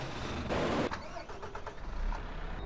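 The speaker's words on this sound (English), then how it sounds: "Get this trailer, these two trucks up and rolling." Truck engines starting up in the farming video game Farming Simulator 15, a short starter crank and engine rumble at moderate level, with brief mechanical clicks and rising motor noise after it.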